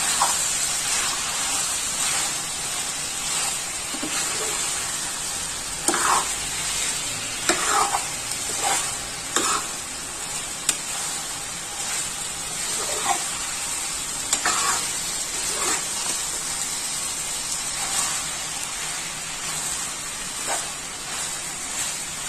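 Chicken for chicken chilli fries in a pan, a constant bright sizzle with intermittent scraping and clacking as it is stirred, close and steady with no talk.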